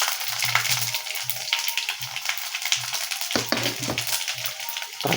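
Dried chillies, bay leaves and five-spice seeds sizzle steadily in hot oil for a khichuri tempering, a continuous close frying hiss with faint stirring taps.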